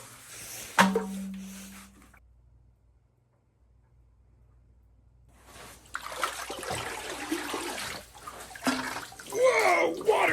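Water pouring from a newly dug well at an off-grid log cabin build, a short splashing stream and trickle before a silent pause, then people talk excitedly over more sloshing and running water.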